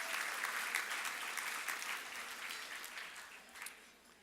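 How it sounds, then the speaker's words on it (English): Faint, distant applause from an audience at a Flag Day event, a steady wash of many hands clapping that slowly fades toward the end. "Let's have a round of applause for those two"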